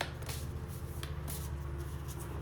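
Close-up riffling of a deck of cards being shuffled, soft papery flutters and light snaps repeating for a few seconds.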